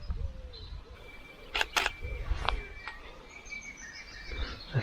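A camera with a Sigma 105mm macro lens fires its shutter a few times while photographing flowers outdoors, giving sharp, brief clicks over faint bird chirps and soft outdoor ambience.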